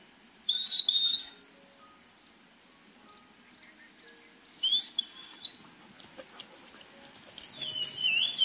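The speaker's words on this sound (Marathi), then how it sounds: "पक्ष्यांचा आवाज पण बघा किती छान आहेत ते." Birds chirp and tweet in a rural Konkan village during the monsoon, in short bright bursts near the start and again midway, with faint scattered calls between and no talking.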